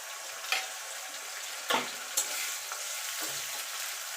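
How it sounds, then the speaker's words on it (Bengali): Chopped onion with ginger-garlic-chilli paste sizzles steadily in a pan, a continuous frying hiss broken by a few sharp stirring scrapes, close and moderately loud with no talk. "এবার পেঁয়াজটাকে একটুখানি ভাজা ভাজা করে নেব"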